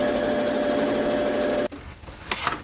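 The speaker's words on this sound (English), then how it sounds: "So I'm gonna fold this over and do a double top stitch like I did on this pattern or this piece here." Sewing machine running steadily for a long double top-stitch on the outer shell of a custom Mandalorian flak vest, a close, continuous whirring hum that cuts off abruptly, followed by a few light handling clicks.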